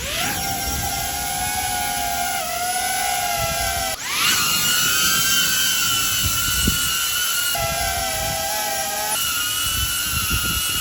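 DJI Avata 2 FPV drone in flight giving a loud, whining propeller buzz whose pitch rises and falls sharply as it manoeuvres, held continuously with no talk.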